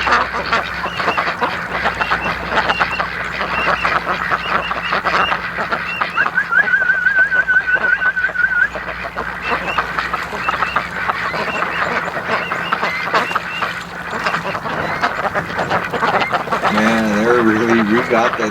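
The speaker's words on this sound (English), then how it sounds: "We got the ducks going some good distance here." Ducks on a lake follow a boat and quack steadily under a continuous wash of wind and motor noise.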